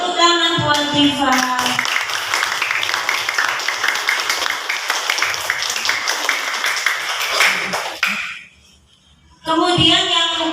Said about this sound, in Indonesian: Ya, tepuk tangan buat Diva.